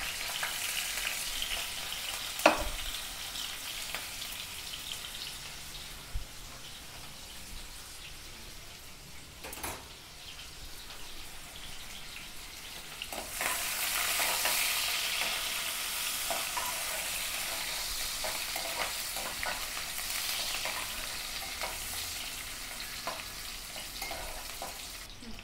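Onions fry in a few spoons of oil in a home kitchen, a steady soft sizzle with occasional stirring knocks, growing louder and denser partway through, close and fairly quiet with no talking.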